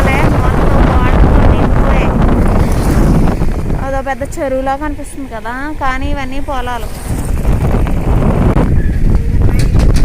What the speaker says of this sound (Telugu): గాలి అయితే చాలా బాగా వేస్తుంది